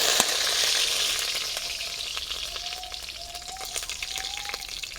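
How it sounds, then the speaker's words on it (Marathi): Curry leaves dropped into hot oil in a pan with spluttered mustard seeds and cumin, giving a loud crackling sizzle that gradually settles into a steady frying hiss with occasional pops. "कढीपत्ता टाकून घेऊ"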